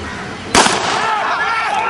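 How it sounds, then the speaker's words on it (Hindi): A single sharp starting-gun shot at a Border Security Force inter-frontier athletic meet, a sudden crack followed by crowd and ambient noise as a sprint race gets under way. "गन शॉट के साथ ही ये रेस स्टार्ट हुई।"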